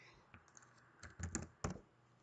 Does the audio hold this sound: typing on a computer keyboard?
yes